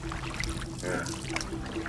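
Canoes paddle through hippo-filled water on the Zambezi River, a steady close wash of splashing and swirling water with no voices.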